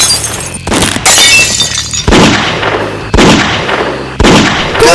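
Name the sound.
gunshots in comic dub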